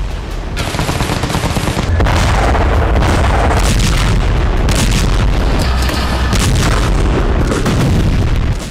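Bombing in Gaza: loud, dense booms and crackling blasts follow one another almost without pause, a heavy, close barrage with no voices heard.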